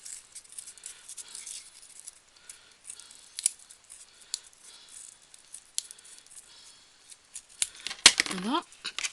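Scissors snip a small plastic bottle craft piece down to size in a run of quick, close, crisp cuts, followed by a brief rustle and scrape near the end.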